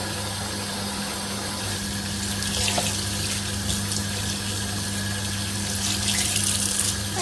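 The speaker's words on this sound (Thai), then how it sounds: "แล้วก็เอามาล้างอีกรอบหนึ่งค่ะ" Tap water runs steadily into a sink as pickled dandelion greens are rinsed again, a loud continuous rushing splash with a low hum beneath and no talk.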